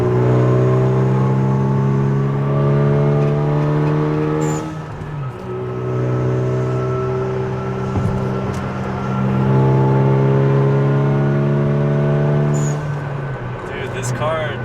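A 2016 Kia Forte running on E85 accelerates hard, its steady engine drone climbing in pitch with brief dips at gear changes, heard from inside the cabin.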